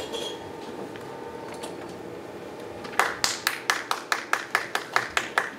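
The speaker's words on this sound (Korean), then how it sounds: "박수 좀 해주시죠." At a New Year press conference for the Yeongdeok county governor, a quiet room murmur gives way to about ten crisp, evenly spaced claps from a small group, close and distinct.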